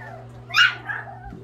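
A dog barks once indoors, a short mid-pitched yip with a faint whimpering tail, against a low steady household hum, with no talking.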